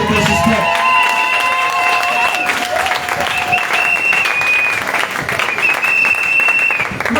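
A church congregation applauds to acclaim Jesus with steady, dense clapping and cheering, loud and continuous throughout, with scattered voices and a sustained tone over the crowd.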